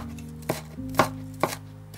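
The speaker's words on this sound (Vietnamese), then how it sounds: "Và băm nhỏ một tép tỏi để lát nữa mình xào." A kitchen knife chops a garlic clove on a cutting board while chicken breast is cooked: three or four separate sharp knocks, about half a second apart, close up and alone over a faint low hum.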